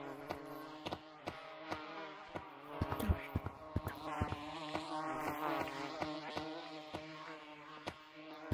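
Buzzing bee in the video game Gorilla Tag, a steady insect drone close by with repeated sharp clicks and tonal game sounds running through it, no talking.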